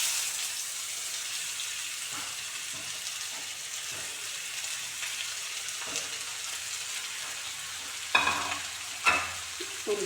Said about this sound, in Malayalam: ഇനി ഉള്ളി ഇട്ട് കൊടുക്കുക